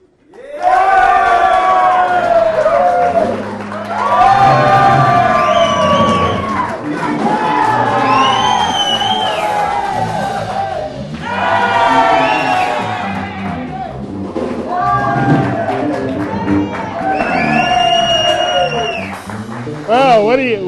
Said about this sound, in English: You give them the applause, all right?